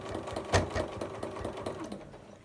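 A sewing machine runs steadily while fabric is moved by hand for free-motion quilting of an apple core runner, giving a fast rhythmic stitching patter with one louder knock, close and fairly quiet.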